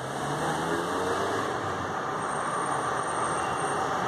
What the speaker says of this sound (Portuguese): E lá vai carro passando.